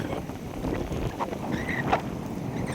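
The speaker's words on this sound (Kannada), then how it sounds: "ತುಂಬಾನೇ ಗಾಳಿ ಬೇರೆ ಇದೆ ಮಳೆ ಎರಡೂ ಇದೆ" Strong wind buffets the microphone in a continuous rushing roar at Kabini reservoir dam, with faint scattered patter of rain underneath.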